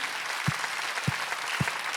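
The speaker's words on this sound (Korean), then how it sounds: "믿는 사람만 박수하면서" A church congregation applauds during a Sunday worship service, a dense, sustained clatter of many hands clapping, with a few soft low thumps and no speech over it.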